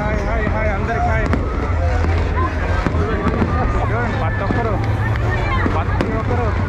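New Year fireworks crackle and pop across a street in Soi 6, Pattaya, under the steady chatter of a dense crowd, with wind buffeting the microphone.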